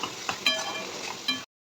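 Chili, tomato and salt sizzle and crackle in a hot pan as they are stirred, a close, steady frying hiss with a few sharper scrapes, stopping abruptly after about a second and a half.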